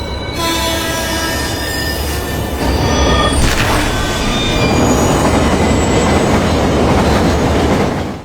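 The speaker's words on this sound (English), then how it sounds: "The train was arriving." A train rolls in loudly, wheels squealing and clattering over the rails, with a horn sounding as the steady rumble fills the whole stretch.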